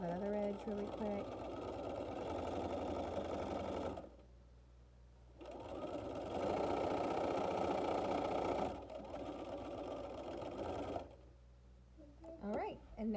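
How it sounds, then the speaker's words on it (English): A sewing machine stitches the edge of a fabric face mask in three sustained runs of rapid mechanical whirring, separated by short pauses, close and fairly loud, with brief handling noises near the end. "Let's sew that other edge really quick."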